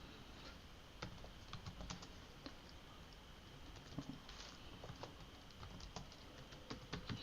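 Computer keyboard typing, quiet irregular clicks of keys in bursts over a soft background hiss, close but faint, with no talk.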